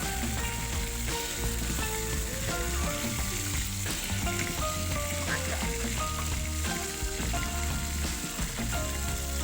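Beef steak sizzles loudly in melted butter with crushed garlic, a dense, steady frying crackle that continues without pause and has no talk over it.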